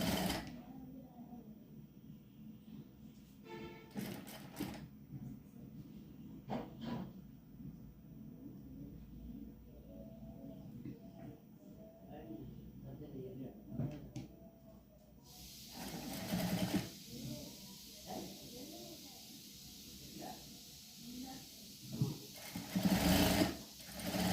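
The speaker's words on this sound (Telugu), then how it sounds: "ఇలా పెట్టేసుకొని ఇలా కుట్టుకోవాలి" A sewing machine stitches a blouse, with short bursts of whirring separated by pauses and handling clicks, faint and close at first and then running louder near the end.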